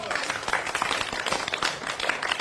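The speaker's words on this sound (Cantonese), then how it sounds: "俾掌聲！" A live audience at a comedic auction scene bursts into steady applause, with dense clapping filling the whole moment and crowd murmur underneath.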